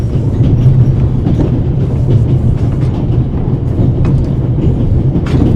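A train rolls along the rails with continuous loud rumble and faint rhythmic clicking of wheels, close and steady throughout with no voices.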